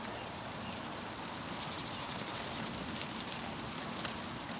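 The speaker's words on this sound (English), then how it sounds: "but it's definitely raining, so that's good." Steady rain falls across a sheep farm, a dense, even hiss with soft patter that holds at a constant moderate level throughout, with no voices over it.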